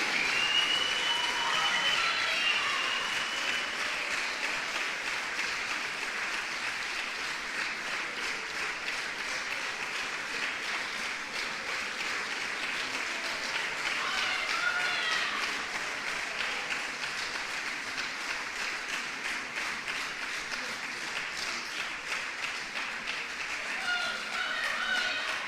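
Church congregation applauding during a bishop's sermon, dense sustained clapping from a large crowd that continues steadily for over twenty seconds with a faint murmur of voices mixed in.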